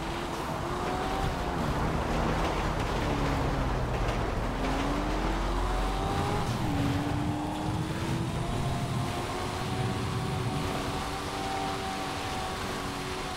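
A Coquette D1 car engine driving in GTA 5 Online, holding a steady drone with rising and falling pitch as it shifts through gears, heard continuously without pause.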